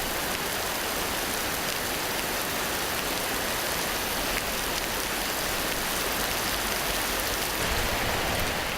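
A summer rain shower pours over a forest and wetland, a dense, even hiss of heavy rainfall that holds steady and loud from start to finish.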